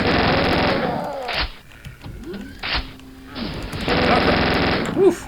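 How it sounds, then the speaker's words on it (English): Chain gun fire in the video game Quake, aimed at imps: loud close bursts of rapid mechanical shots broken by short pauses, with game sound effects in between. "chain gun I think will be good for the imps coming up here"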